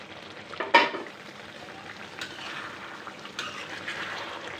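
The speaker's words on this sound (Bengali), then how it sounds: "এই যে পেঁয়াজ ভেজে নিছি, মাছের সাথে ভেজে নিয়ে নিলাম" Fish and onions fry in hot oil in a home kitchen, giving a steady soft sizzle with a sharp crackling burst near the start and a couple of later spits, close by and without talk.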